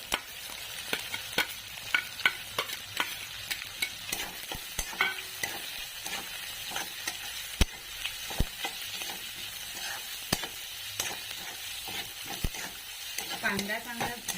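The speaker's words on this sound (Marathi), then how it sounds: "आता यात कांदा घालून घ्यायचा।" Onion sizzles and fries in a pan with browned garlic, a steady close crackle broken by frequent sharp clicks of a spoon stirring against the pan.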